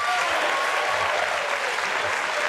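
A live audience applauds and cheers at a podcast taping about David Strickland, a dense, steady wash of clapping at full loudness throughout, with voices buried in the crowd noise.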